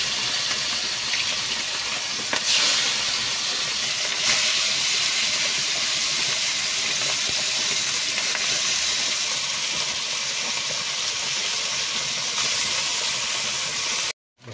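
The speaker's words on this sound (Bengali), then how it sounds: "আমি তেলটা দিয়ে দেবো মাছ ভাজার জন্য" Small fish frying in hot oil in a home kitchen, a steady dense hiss and crackle that stays loud and even for the whole stretch, then cuts off abruptly at the end.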